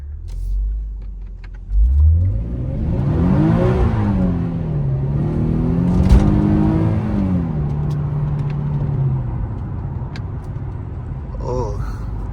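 A brand-new car's engine revs up from a low rumble, climbing in pitch, then holds a steadier drone before easing off, loud and close, with a person speaking partway through.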